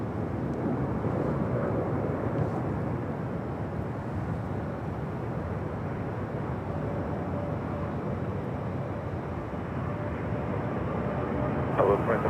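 A Boeing 777 airliner in from Hong Kong rumbles at LAX as a steady, broadband engine roar that holds at an even level for about twelve seconds, with faint voices underneath.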